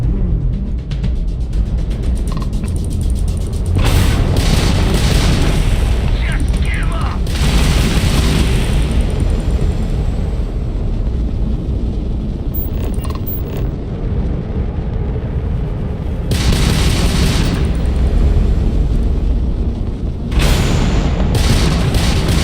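Homing missiles fire and explode during space combat in the Starfield video game, heavy booming blasts and bursts recurring over a dense rumbling background, with talk over the action.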